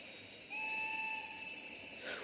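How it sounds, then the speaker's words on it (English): A steady, high train whistle sounds from a distance for about a second and a half over a low background hum. "he heard a whistle"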